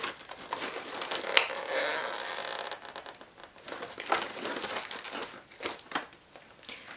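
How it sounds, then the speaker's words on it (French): Plastic packaging around a boxed anime figurine crinkles and crackles as it is opened, close and continuous in bursts with brief pauses, no voices. "J'essaye d'ouvrir l'emballage plastique"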